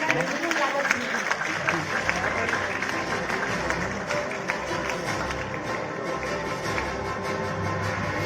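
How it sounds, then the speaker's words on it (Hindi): Audience applause fills a women's honour award ceremony, the Lokmata Ahilyabai Holkar Mahila Samman 2025, as a steady, dense clapping that holds for several seconds at an even level. "जोरदार तालियां हो जाए।"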